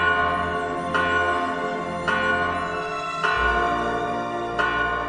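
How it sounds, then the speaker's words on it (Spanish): Church bells ring in a radio drama about a saint's death, several struck tones recurring about once a second against a sustained ringing wash, loud and alone with no voices. "las campanas de la iglesia comenzaron a sonar solas"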